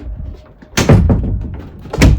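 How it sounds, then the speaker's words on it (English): A misaligned interior door is pushed shut with a loud thud, then knocked against its frame again with a second heavy thunk a moment later, close by with no talking. "this door doesn't shut properly"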